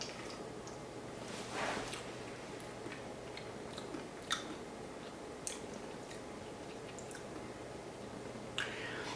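Someone quietly eats Kraft Cool Whip fat-free whipped topping, with soft, sparse mouth clicks and smacks over a faint steady hum.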